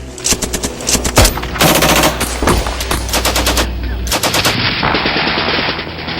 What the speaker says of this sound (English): First, a barrage of cover fire, and then a charge across the street.